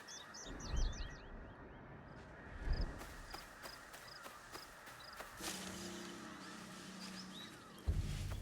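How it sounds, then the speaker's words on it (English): Many birds chirping at a distance in a video game, scattered high calls over a steady ambient bed, with footsteps, occasional thumps and a low rumble. "That's a lot of birds. There's a lot of freaking birds up there."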